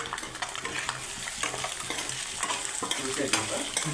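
Food fries with a steady broadband sizzle while a utensil stirs it in a pan, making scraping strokes and soft clinks; yellow powder has just gone in. The sound is close and fairly loud, and no one speaks.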